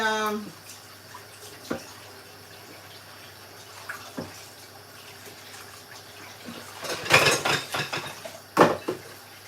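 A cooking pot being rinsed with water during Christmas pot roast prep: a quiet kitchen backdrop, then a loud burst of splashing and clanking metal near the end, with a few sharper knocks.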